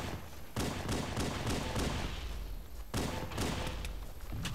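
Distant sniper-match gunfire in Halo: muffled low booms and thuds land about twice, with a faint rumble and clatter between them.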